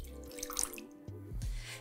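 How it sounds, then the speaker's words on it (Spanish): Water is poured briefly into a wide container for making edible gelatin fabric, giving a soft, close splash and trickle. "donde vamos a colocar el agua"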